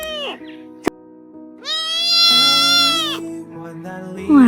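A short-legged, lively kitten cries when unhappy, giving several drawn-out, high plaintive meows in succession, close and fairly loud, with a brief sharp click between early cries.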